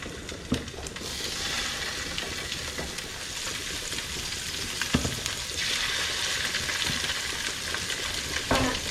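Salmon pieces sizzle and crackle steadily in a hot pan, a dense continuous frying hiss with occasional sharper pops and clatters, fairly close and without talk.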